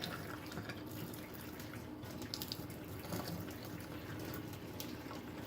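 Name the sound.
draining water from beans in kitchen sink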